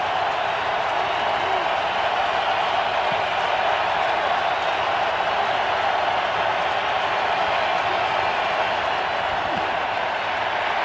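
Steady roar of a packed NFL stadium crowd during a Seahawks at Broncos game in 2018, a broad continuous wash of cheering and noise that stays loud and even throughout.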